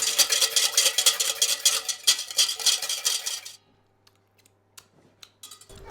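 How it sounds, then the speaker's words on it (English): A whisk rattles quickly against a bowl while mixing garlic into a balsamic vinaigrette of olive oil, a fast and busy metallic clatter for about three seconds that then stops, leaving a few faint taps. "whisk it up"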